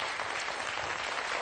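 Studio audience applause on the French quiz show Questions pour un champion, a dense, even burst of many hands clapping close and loud for a brief moment.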